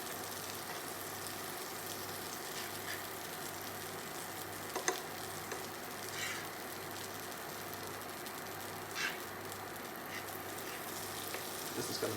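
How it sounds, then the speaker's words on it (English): Butter melting in a frying pan for French toast gives a faint, steady sizzle with a low hum beneath and a few soft clicks from utensils. "Now we're just going to spread the butter into our pan."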